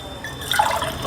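Water is poured into washed dal and rice for khichdi, a brief gurgling splash and trickle rising partway through the short moment.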